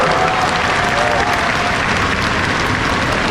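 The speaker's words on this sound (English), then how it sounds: "How about a round of applause" A crowd at Canada's biggest fair, the Ex, applauds at a super dog show, sustained clapping throughout with a faint voice at the start.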